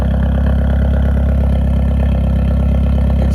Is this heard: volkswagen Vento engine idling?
yes